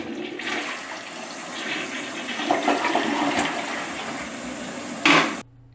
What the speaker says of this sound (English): we're going to give her a flush.